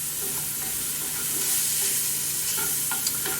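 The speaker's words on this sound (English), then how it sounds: "And I want to saute that a little bit here." Peppers, onions and celery, the Creole Trinity, sauteing in a pan for a sauce, a steady broadband sizzle with intermittent scraping stirs, close and fairly loud with no talking.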